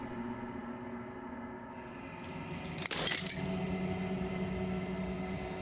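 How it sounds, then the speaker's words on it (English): Glass shattering in the video game Slay the Princess: a single sharp, bright crash near the middle, rising over a steady ambient music bed that continues underneath and after it. "As the final fragment of glass shatters"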